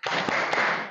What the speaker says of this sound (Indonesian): kita tepuk semangat ya, biar tidak ngantuk